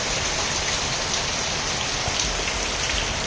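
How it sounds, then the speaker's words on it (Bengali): Heavy monsoon rain pours down steadily and loudly, a dense, unbroken roar of drops on surfaces close by, with no other sounds standing out. "দেখো কত জল প্রচুর বৃষ্টি হচ্ছে"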